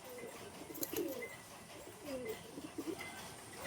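A Kaldoma pigeon cock at a pigeon sale gives faint, low throaty coos in a few separate rounds over quiet background noise.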